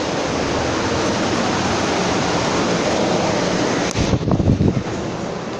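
Strong wind in a desert sandstorm at Desert Hot Springs roars as a continuous broadband rush buffeting the microphone, loud and unbroken, easing slightly with gusty rumbles near the end.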